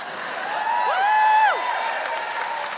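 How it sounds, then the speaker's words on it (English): A live audience at a comedy show in Wellington cheers and applauds, a steady wash of crowd noise with one voice whooping a rising and falling call over it for about a second. "Just give us a cheer"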